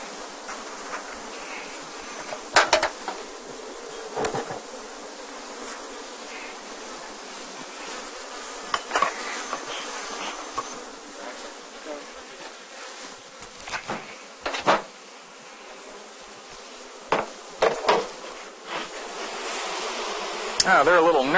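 Honeybees buzz steadily around an opened hive body in an apiary, a continuous near hum broken by sharper passes of individual bees flying close by.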